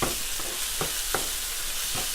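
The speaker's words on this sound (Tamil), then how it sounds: "இது நல்லா வதங்கட்டும்" Tomatoes sauté in a pan for prawn thokku, giving a faint steady sizzle broken by a few soft scrapes of stirring, with no talk.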